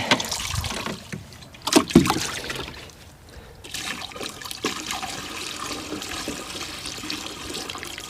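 Water drains from a Sea-Doo GTX DI personal watercraft, a steady nearby trickle and splash with a few louder knocks and gurgles early on.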